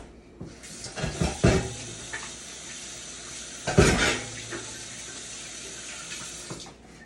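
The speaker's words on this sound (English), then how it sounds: "Let me wash my hands." Running tap water at a kitchen sink during hand washing while meatloaf is prepared, a steady broadband wash with a few louder splashes and clatters near the start and middle, close and alone.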